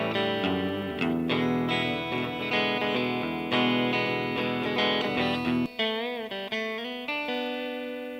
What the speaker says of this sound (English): We should make it a spring reverb.